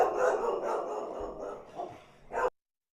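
A dog barks a few times close by over a dense, busy background, with a short sharp burst at the end before the sound cuts off.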